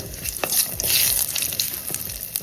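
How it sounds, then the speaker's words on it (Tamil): Whole cinnamon and cloves fry in hot oil in a pan with a close, crackling sizzle, broken by brief scraping stirs. "2 துண்டு பட்டை லவங்கம் போட்டு இதை நல்லா ஃப்ரை பண்ணிக்கோங்க"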